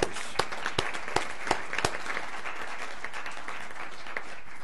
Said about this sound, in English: let's give Shirley a round of applause